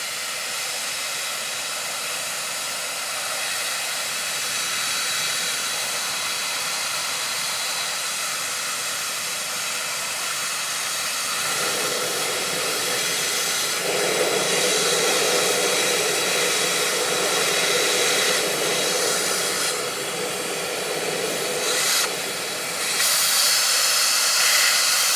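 A jet dryer blower air duster runs its fan at top speed, a loud, close, continuous rushing hiss of powerful airflow that shifts in tone a few times but never stops.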